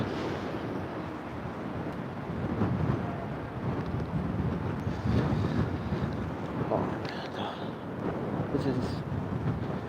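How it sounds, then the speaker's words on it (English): Strong wind gusts buffet the microphone in a continuous low roar, rising and falling in intensity throughout, on the waterfront in Long Island City, Queens, New York City. "It's a windy day."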